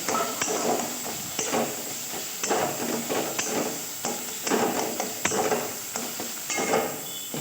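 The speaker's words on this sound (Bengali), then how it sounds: "খুব সুন্দর করে আমি ভেজে নিচ্ছি" Chhana (cottage cheese) frying in ghee for mango sandesh gives a steady, close sizzling hiss, with soft stirring scrapes and taps recurring throughout.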